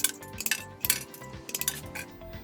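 Thin metal blanks for plaster mesh clips are cut by hand, giving a quick series of close, bright metallic snips and clinks in irregular rhythm, with no talking.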